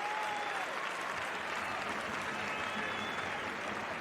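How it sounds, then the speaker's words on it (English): Rugby crowd at a Spain versus Ireland match applauding a skilful bit of footwork and handling, a steady, dense wash of clapping and cheering filling the whole stretch at an even level. "the crowd showing their appreciation for that"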